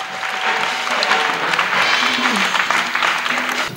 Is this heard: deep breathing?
no